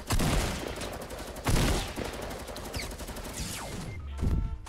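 Fortnite gunfire from several players fighting at a distance, dense bursts of overlapping shots and cracks with a few louder nearby blasts, continuous and busy throughout.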